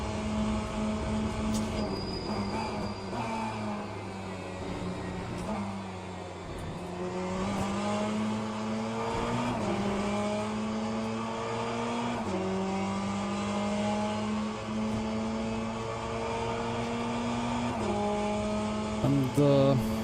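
Race car engine in the Le Mans Ultimate sim racing game, a steady droning roar that climbs in pitch through repeated upshifts, each gear change dropping the tone before it rises again, continuous and fairly loud.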